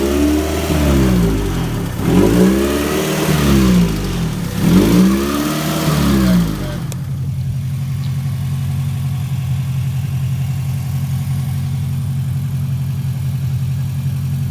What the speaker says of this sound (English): Well, I got the car running.